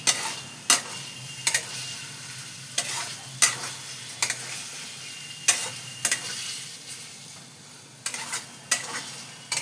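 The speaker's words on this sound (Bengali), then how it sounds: "এর সাথে আমি আলুটা কষিয়ে নিচ্ছি" Diced potatoes sauté in a pan with sharp, regular scrapes of a spatula against the metal over a steady, close sizzle, repeating roughly every second, with no voices.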